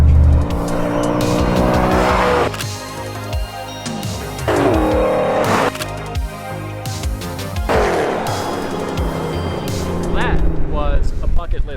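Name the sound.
Chevrolet Corvette ZR1 32 valve quad cam engine drag racing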